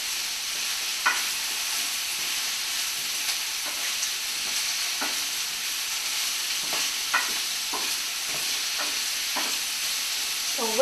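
Zucchini stirred into tomato and tofu frying in a pan, a constant even sizzle with repeated soft scraping strokes from a utensil, close and alone without speech.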